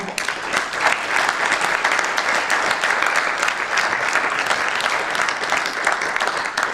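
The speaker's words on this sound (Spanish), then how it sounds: "Pido outro forte aplauso para os técnicos de son." Sustained, loud applause from a live audience at an improvisation showcase broadcast on radio, honoring the sound technicians; dense steady clapping fills the whole stretch without a break.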